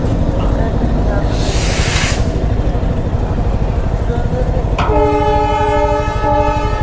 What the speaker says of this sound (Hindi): एक तो इंजन पास किया